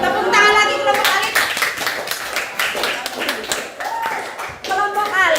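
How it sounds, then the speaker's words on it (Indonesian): Applause in a classroom during group presentations: a burst of clapping from a group of students, uneven and close, mixed with children's voices and chatter throughout. "Tepuk tangan lagi"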